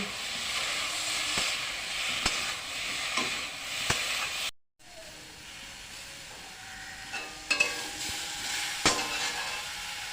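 Chili-spiced eggplant curry being stirred in a pan, a steady hiss and sizzle with occasional spoon scrapes, a brief dropout midway, then continued bubbling and clinks close by.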